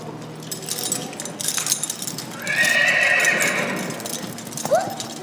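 Shetland ponies during a team ball game: hooves clop over rough ground while one pony gives a loud, drawn-out whinny, with faint clinks and distant voices around.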